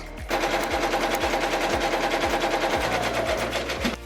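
An embroidery machine stitches a hanging quilt, rattling out a rapid, steady mechanical clatter of needle strokes up close, running continuously after a brief quiet start with no talk.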